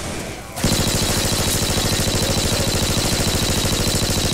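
A P90 submachine gun in Left 4 Dead 2 opening up into a long, loud, unbroken stream of rapid automatic fire heard up close after a brief quieter lead-in.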